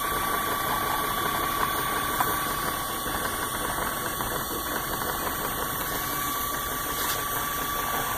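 A Geeetech Prusa i3 Pro B 3D printer with a 0.3 mm nozzle prints 1.75 mm filament, giving a continuous steady motor whine and hum with faint ticking, loud and close with no talking.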